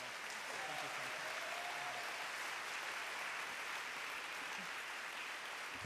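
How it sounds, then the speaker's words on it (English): An audience at Town Hall Seattle claps for Katrina vanden Heuvel, a dense, even wash of applause that lasts throughout, with faint voices underneath. "So please give one more round of applause for Katrina Vanden."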